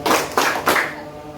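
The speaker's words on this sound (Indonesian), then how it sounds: "Tepuk tangan 1, tepuk tangan 2, tepuk tangan 3." A classroom group claps in a counted rhythm, three distinct bursts of hand claps spaced evenly apart, loud and close, with no talking.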